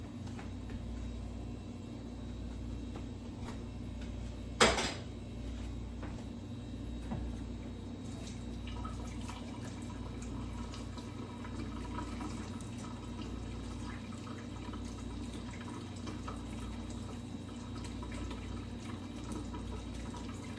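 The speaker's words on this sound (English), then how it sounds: "I can actually run it under some cold water in this" Cold water runs steadily from a tap over a sifter for a long stretch, a constant rushing wash with one brief knock partway through.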